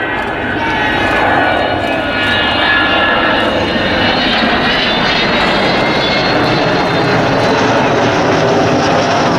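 Avro Vulcan XH558 jet bomber passing at an RAF Waddington air display, bomb bay open: a loud, steady, broad engine roar sustained throughout, close and continuous with no break.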